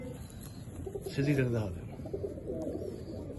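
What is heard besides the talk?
pigeon cooing in breeding loft, female sitting on eggs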